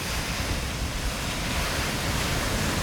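Surf rolling steadily onto Nai Harn Beach in Phuket, a continuous broad wash of breaking waves with wind noise over the microphone, no voices.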